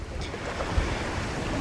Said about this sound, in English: it's freaking windy out here, man